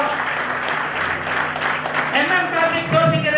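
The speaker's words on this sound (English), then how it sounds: "Please give a big round of applause for" Audience applause at an MSME business conclave, a steady, fairly dense wash of clapping that carries on while a speaker's voice talks over it.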